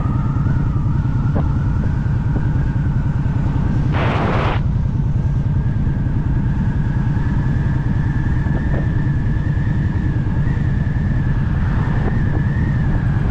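Strong wind buffets the microphone in a continuous low rumble during a slow 35 mph drive down a mountain on the highest road in the U.S., with a brief louder gust partway through.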